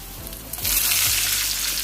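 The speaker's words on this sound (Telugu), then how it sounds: "ఉల్లిపాయ ముక్కలు కరివేపాకు ఇవన్నీ వేసి చక్కగా ఫ్రై చేసుకున్నాం" Garlic, onion pieces and curry leaves fry in hot oil in a pan, a steady loud sizzle that swells after a moment and holds, with a few soft stirring taps early on and no talk.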